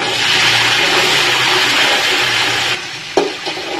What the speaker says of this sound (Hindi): अब मैं इसमें जो है अपने चने डालूंगी